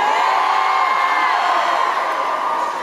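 A concert crowd cheers loudly at the Olympia in Paris during a show, a dense, steady wall of shouting and whooping voices that holds without a break for a few seconds.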